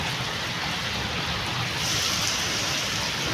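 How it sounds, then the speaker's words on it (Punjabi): Heavy, steady early-morning rain pours down in a dense, continuous hiss with no pauses. "ਆ ਤਾਂ ਮੀਂਹ ਕੁਛ ਜ਼ਿਆਦਾ ਹੀ ਹੈ"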